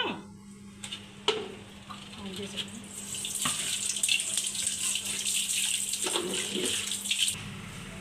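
Raw farm chicken is rinsed under a running kitchen tap: quiet handling sounds at first, then a steady gush of water splashing into a sink that continues to the end.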